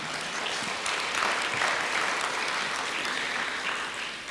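An audience at a staff in-service day applauds the governor with steady, sustained clapping from many hands, filling the room evenly for several seconds and tapering slightly at the end.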